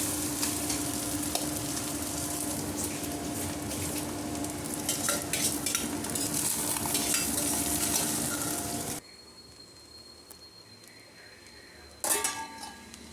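Spatula stirring and mixing paneer fried rice in a hot pan on the stove, scraping and sizzling steadily for about nine seconds, then quieter low background before a brief clatter of the pan near the end.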